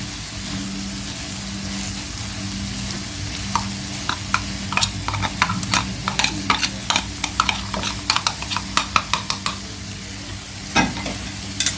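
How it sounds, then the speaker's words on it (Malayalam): Chopped chicken filling for bread pockets being stirred and mixed in a pan, with a spatula scraping and tapping in a run of sharp clicks over a steady low kitchen hum, growing busier toward the end. "നന്നായിട്ട് മിക്സ് ചെയ്യണം."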